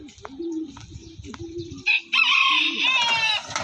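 Fighting roosters at a club training session let out low clucks and bursts of crowing, loud and close, with a strained cock-a-doodle-doo rising toward the end and some faint voices nearby.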